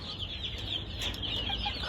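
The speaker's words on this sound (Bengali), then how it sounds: "এখানে আপনার জাপানিজ ব্যান্থাম রয়েছে এই যে মেলটা মেলটা খুবই সুন্দর" A large male Japanese bantam at a fancy chicken farm in Bangladesh clucks softly against a constant hiss of farm background noise.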